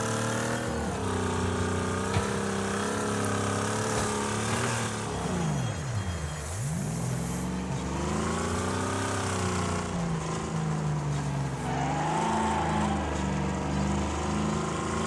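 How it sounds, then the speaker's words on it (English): A car drives steadily with a loud engine drone that dips and rises once midway, while a faint metallic tinkling rattles from underneath, like a loose cowbell clanking below the body. "Sound like I got a cowbell tied to the bottom of the car or something."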